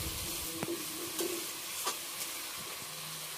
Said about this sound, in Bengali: এটা খুব ভালো করে ভাজতে হবে